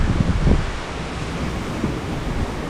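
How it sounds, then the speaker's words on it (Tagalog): Strong wind roars steadily by the sea where big waves are running, a continuous broadband rush with a heavier gust early on and no voices. "Malakas ang hangin."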